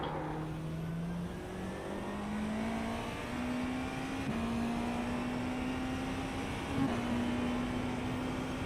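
Race car engine in the iRacing simulator, a steady droning note that climbs slowly in pitch as the car accelerates, with a brief gear shift partway through and no talking.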